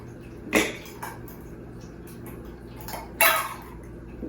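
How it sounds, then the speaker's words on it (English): Ice goes into a cocktail shaker for a lavender blueberry egg white cocktail: a few sharp clinks and rattles, one near the start, a faint one after, and a louder clattering drop near the end, over a quiet background. "Now it's time to add ice"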